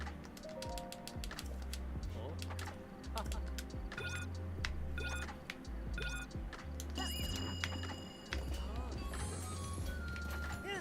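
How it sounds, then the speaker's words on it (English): Hooves clip-clop in a steady rhythmic trot from a horse ridden in the video game The Legend of Zelda: Breath of the Wild, fairly quiet and close, with game music and interface tones in the mix. "this horse might be too slow"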